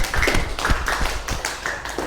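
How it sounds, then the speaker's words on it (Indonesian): A classroom of students claps for the presenting groups, a close, lively burst of uneven hand claps with a loose rhythm that continues throughout. "Tepuk tangan untuk semua kelompok ya."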